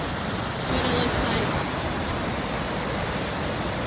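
Crystal Creek Falls waterfall, a steady broadband rushing roar that stays constant and fairly loud, with a brief faint voice at the start.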